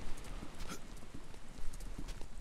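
A wild pig runs around in the survival video game Stranded Deep, its quick hooved footfalls pattering in a steady rhythm amid a busy, noisy game soundscape.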